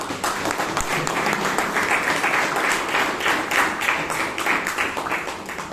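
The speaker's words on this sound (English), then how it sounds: "Let us give a good round of applause to the General Evaluator, the speakers, evaluators, and the role takers" An audience at a Toastmasters meeting in Bangalore claps in a steady, dense wash of applause that holds evenly for several seconds before easing slightly at the end.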